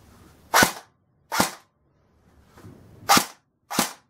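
A Golden Bow RPK airsoft gun fires semi-automatic, four sharp separate cracks at uneven intervals, close and loud against near silence.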